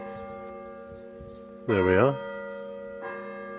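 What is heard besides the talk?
church bell marking the half hour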